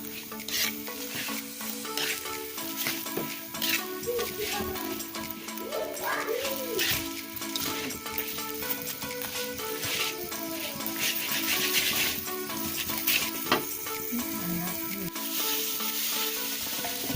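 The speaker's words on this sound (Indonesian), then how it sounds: "ini sangrai udangnya sampai lumayan kering" Shrimp heads and shells dry-roasting and being stirred in a pan over medium heat, a steady scraping and crackling sizzle throughout, with scattered spoon clinks and faint voice underneath.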